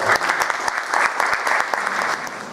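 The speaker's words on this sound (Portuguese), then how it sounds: "Uma salva de palmas para o Coral." An audience gives a round of applause for a choir before the Brazilian national anthem, with steady, dense clapping from a crowd indoors.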